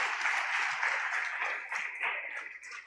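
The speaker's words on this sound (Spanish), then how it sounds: "dele un fuerte aplauso a Cristo" A church congregation breaks into dense, steady applause for a few seconds, close and fairly even, with scattered lighter claps as it begins to fade.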